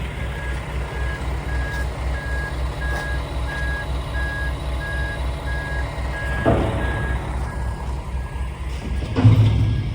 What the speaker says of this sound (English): Another truck leaving the yard.